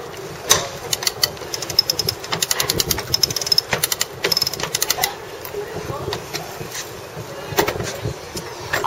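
Winch on a sailing yacht being ground tight, a run of ratcheting mechanical clicks and whirring bursts close by, steady and moderately loud, with no talk over it.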